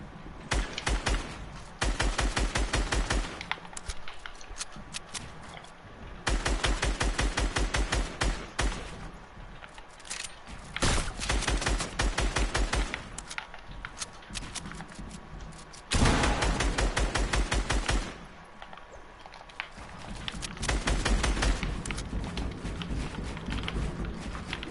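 Rapid bursts of gunfire in the video game Fortnite, repeated volleys of shots separated by short pauses, loud and close throughout with no talking.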